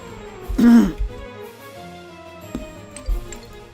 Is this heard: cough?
yes